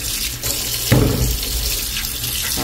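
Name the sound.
tap water rinsing food in a sieve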